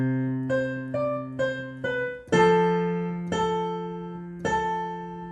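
A piano plays the first part of the "We Wish You a Merry Christmas" chorus in a slow, clear line of single notes. The later notes ring out longer and fuller, and no one speaks.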